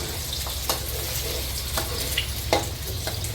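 A boy stirring egg fried rice in a pan: a constant close sizzle with a few sharp spatula scrapes and knocks spaced through it, no talking.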